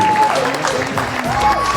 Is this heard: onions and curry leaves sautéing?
no